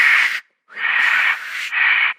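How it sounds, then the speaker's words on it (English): Superman's super breath effect from the 1987 film Superman IV: The Quest for Peace, a loud, airy rushing hiss in three long blasts separated by brief gaps, with no voices. "I love the sound effect of the breathing."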